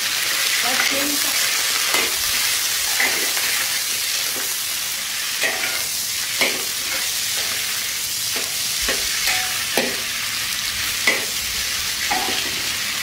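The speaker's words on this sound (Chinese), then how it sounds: "这样子把排骨煎一下，吃起来它会更香一点点" Pork ribs pan-frying in hot oil until golden on both sides, giving a loud, steady close-up sizzle with scattered sharp spatter pops throughout.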